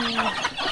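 Chickens cluck close by in a small hillside village in Thailand, a short burst of hen calls with rural background hum.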